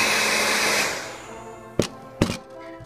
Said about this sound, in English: I'm gonna go ahead and turn on the heat dryer.